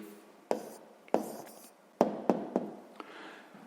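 A pen or chalk sets down a math answer in a few sharp taps and short strokes, spaced irregularly, close and alone without talk.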